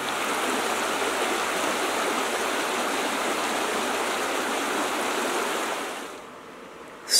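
Cold flowing stream water rushes steadily and loudly nearby as a broad, continuous wash, fading somewhat near the end before a brief sharp noise.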